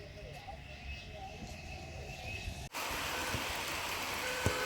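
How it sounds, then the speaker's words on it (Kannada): Quieter outdoor ambience gives way abruptly to heavy rain, a loud, continuous roaring downpour that fills the rest of the moment, in the field during an elephant radio-collaring operation. "ಫುಲ್ಲು ಮಳೆ"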